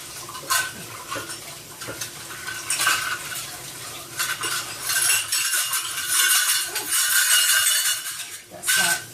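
Dishes and cutlery being washed by hand in a home kitchen, with clinks of silverware and plates, splashing and scrubbing throughout, fairly close, over a faint background of a radio playing.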